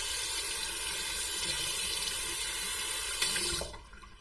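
A tap runs steadily to wet a shaving brush before a shave with a Merkur 41c razor, a loud continuous rush of water that cuts off abruptly near the end, leaving quiet.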